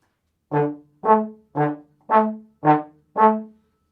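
A trombone plays six short, clipped notes in an even rhythm, each one cut off quickly, with brief silences in between.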